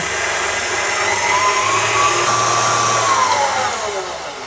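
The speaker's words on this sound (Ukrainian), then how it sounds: "Додаємо до вершків цукрову пудру, збиваємо міксером насадка вінчик до м'яких піків." Electric mixer with a whisk attachment whipping cream with powdered sugar to soft peaks, a steady loud motor whir that holds evenly throughout, its pitch rising then slowly dropping, with no talking.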